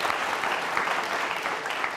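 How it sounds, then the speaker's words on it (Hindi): A burst of hearty applause from a school quiz show audience, dense and even clapping from many hands filling the whole short stretch at steady loudness. "जोरदार ताली बजनी चाहिए"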